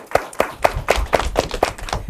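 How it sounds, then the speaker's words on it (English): Rhythmic clapping for elementary-school quiz players after a match, about nine evenly spaced, crisp claps close by, like a few people or a small group clapping in time. "I think they deserve a round of applause for themselves for a job well done."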